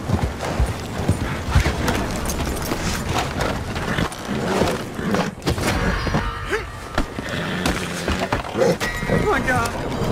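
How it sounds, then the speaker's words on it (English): Horse hooves clip-clop steadily through a town in Red Dead Redemption 2, a continuous trotting rhythm heard close alongside other game sounds. "Horsey."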